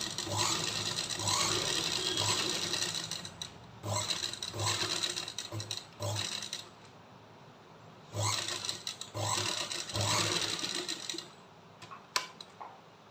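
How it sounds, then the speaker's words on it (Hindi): A sewing machine stitches a fabric tube strip for a tunic blouse in bursts of rapid mechanical chatter, starting and stopping several times with short pauses between runs, close and loud. "मैं जो है कि ट्यूब पट्टी की स्टिचिंग कर लूँगी"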